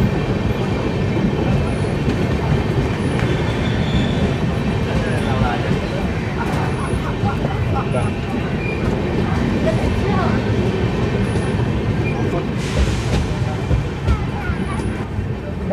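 Continuous rumble and rattle of the Tapaswini Express running, heard from inside a general class coach, with steady low clatter throughout and faint voices in the background.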